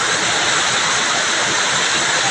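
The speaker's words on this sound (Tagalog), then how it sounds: "Lakas talaga ng agos." Strong floodwater rushes past in a loud, continuous roar of churning current, close and unbroken, after heavy rain flooded a workplace.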